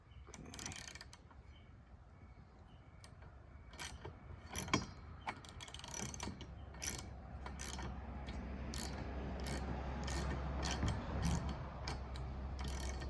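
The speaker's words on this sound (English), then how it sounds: "now we'll just get going with tightening this" A ratchet tightens a bolt on a Ford Bronco accessory in a long run of steady, close pawl clicks with brief pauses, and a low hum builds underneath toward the end.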